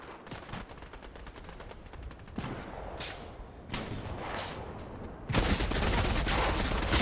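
Heavy gunfire from a video game, played on an Acer Aspire 5 laptop, comes as dense bursts of shots and rapid automatic fire, growing louder and more continuous toward the end.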